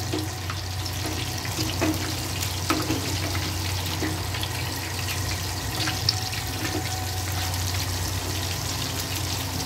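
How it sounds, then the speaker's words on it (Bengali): Topse fish fry in a pan over a low gas flame, giving a steady, close sizzle with a constant low hum underneath and a few soft pops and clicks. "আমি এবার এই পিঠটাকেও সুন্দর করে ভেজে নেব লাল লাল করে"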